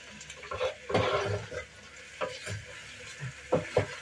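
Potatoes being stirred in a small saucepan, with uneven scraping and clattering strokes and a few sharper knocks against the pot, close and fairly quiet, without speech.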